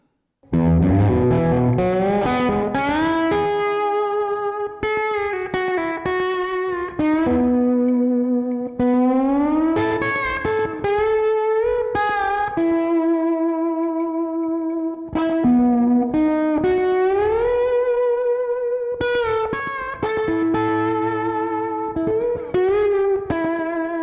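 Aria Pro II 714-GTR electric guitar played with a slide on the bridge pickup, tone rolled down, notes gliding smoothly between pitches in a warm, slightly muted tone with some reverb, continuous and unaccompanied.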